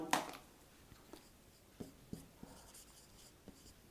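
Pen strokes of handwriting on paper as notes are written out during a biology lesson on the menstrual cycle; faint scratchy marks come in sparse, irregular short bursts over a quiet background with no talking.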